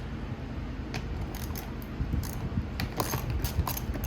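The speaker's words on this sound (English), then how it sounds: "It's on by two 8mm hex head bolts." A wrench works on two 8mm hex head bolts, producing a series of close, crisp ratcheting clicks and metallic snaps in irregular bursts over a low background hum.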